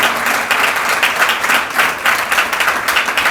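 Audience applause at a Jain religious discourse for Veer Shasan Jayanti: steady, dense clapping from a crowd that holds an even, lively level throughout with no pauses.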